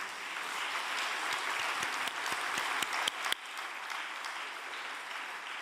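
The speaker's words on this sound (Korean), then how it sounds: "아버님께 감사의 박수를 올려드리겠습니다" A congregation at a Korean religious retreat gives a round of thankful applause, steady and fairly quiet, with a few sharper individual claps standing out before it settles into an even wash.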